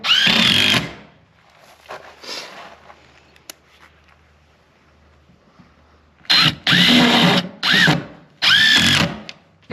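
A power drill drives screws into hardwood shed framing in short, loud whirring bursts, a lone burst first, then three more in quick succession after a pause, with faint background noise between runs.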